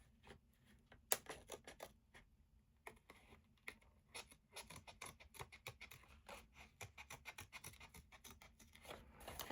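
Scissors snip a paper moth out for a handmade card, giving a run of quick close crisp cuts and rustles that are faint overall and come in irregular bursts with no talking.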